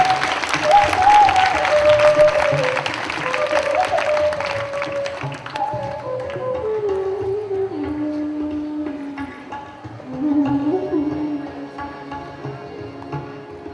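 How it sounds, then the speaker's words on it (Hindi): An audience claps to welcome Swami Ramdev, dense applause at first that thins and fades while a melodic tune plays over it, with a brief renewed swell of clapping later. "जोरदार तालियों से स्वागत कीजिए"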